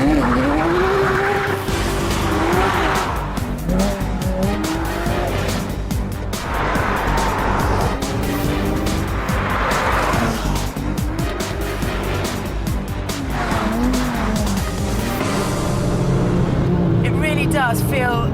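A Porsche 911 GT3 driven hard around the Cadwell Park circuit: the engine revs rise and fall repeatedly through the gears, with tire squeal in the corners. The car sounds close and loud, with no break in the noise.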